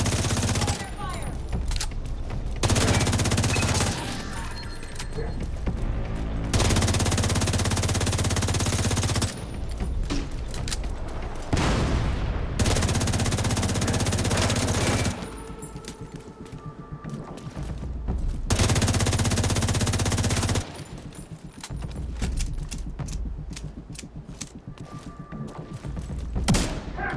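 Shotgun blasts and other weapon fire ring out in The Division 2 video game, with repeated loud bursts separated by quieter gaps, mixed with game sounds and voices speaking throughout.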